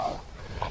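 A dog gives two short, low yelps or whines, one at the start and one near the end of a brief moment, fairly close with quiet background.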